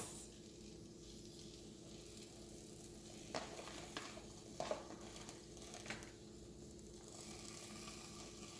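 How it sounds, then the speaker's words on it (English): Soft, steady sizzling of onions and peppers frying in a pan, with a few scraping stirs and clinks breaking through the continuous hiss. "You can hear the sizzling, can't you?"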